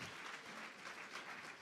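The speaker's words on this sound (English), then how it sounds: "Please, a round of applause for her, please." Audience applause for Miss Kenya USA at an awards livestream, a steady, faint wash of many hands clapping without breaks.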